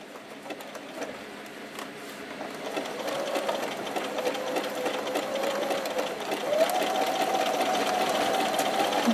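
A sewing machine stitches a patch over a hole in a pair of jeans, its rapid needle chatter running near and steady and building slightly in pitch and speed toward the end, with no talk over it.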